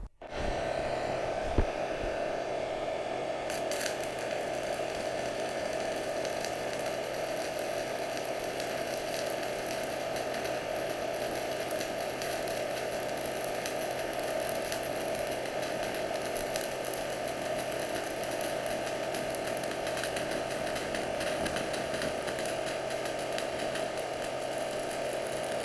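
A drill-shaped welding gun runs at about 75 amps in a continuous steady buzzing hiss with a constant hum that lasts throughout, close and fairly loud, with a brief clatter near the start and no talking.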